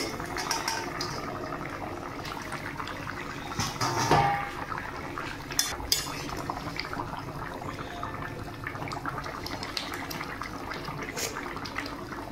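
Boal fish curry with beans, potatoes, aubergine and lentil dumplings simmering in a pot, a steady bubbling hiss with a clunk of the lid lifting partway through and a few light knocks, no talking.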